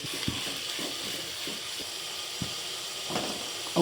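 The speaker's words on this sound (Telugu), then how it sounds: "ఇప్పుడు ఉల్లిపాయలు వేసుకున్నాం మీ అందరికీ తెలిసిందే కొంచెం ఉప్పు వేస్తే తొందరగా ఆనియన్ ఫ్రై అవుతుంది" Onions frying with green chillies and salt in a pan for a meal maker onion fry: a steady, even sizzle with occasional soft clicks and pops, close and without talk.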